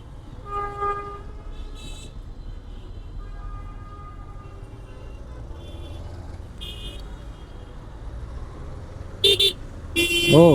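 Car horns honk in a traffic jam on a Dhaka road near the ECB and Kuril flyover. Short toots sound at intervals over a steady low road rumble, with a cluster of louder, closer blasts near the end.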